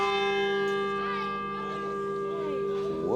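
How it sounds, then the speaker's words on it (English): Church bells ringing out loud and close in Hamburg, Germany, sustained harmonic tones humming and overlapping with slowly wavering overtones, while someone speaks excitedly over the ringing. "Oh, the bells are going off here."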